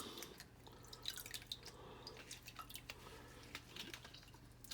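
Water drips and trickles steadily as dyed doll clothes are rinsed in cool water, with scattered small splashes over a low constant hum.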